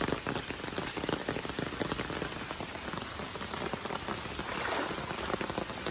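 Remnants of Hurricane Debby pour rain onto an umbrella in Ellicott City, Maryland, a dense, close, steady patter drumming on the fabric throughout with no voices.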